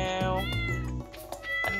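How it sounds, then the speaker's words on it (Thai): A cat in the farming game Stardew Valley gives a couple of clear, loud meows close up, over steady background game music, with no talk. "แมวที่น่ารักของเรา"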